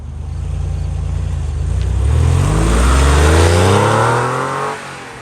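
A 1998 Porsche 911 Carrera 2S engine accelerates hard on a twisty road, its pitch climbing steadily through the gears, loud and close, then easing off near the end; no talking.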